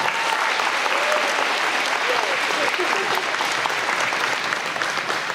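An audience at the opening ceremony of a majorette championship in Wyszków claps steadily and warmly in an indoor hall, the sustained applause filling the whole stretch.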